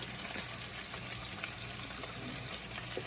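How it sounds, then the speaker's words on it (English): Bacon and chopped clams frying in a pan, a steady dense sizzle and crackle with faint stirring, close and unbroken throughout. "our bacon's just about there. It's getting nice and crisp. We're going to put our chopped clams in there."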